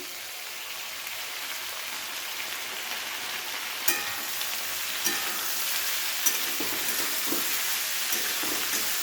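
Chopped tomato and vegetables fry in a pan with a steady broadband sizzle, broken by a few sharp clicks of utensil contact, with no talking.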